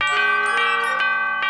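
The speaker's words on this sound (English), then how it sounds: "An elephant bell!" An elephant bell rings in a cartoon, four bright metallic strikes spaced evenly, each leaving a sustained shimmering tone that overlaps the next.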